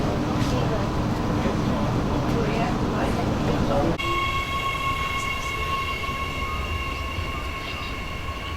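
A commuter train sits at an Adelaide railway platform on the Seaford line, giving off a constant loud rumble and mechanical drone. A shift in tone comes partway through, and a station announcement plays over it.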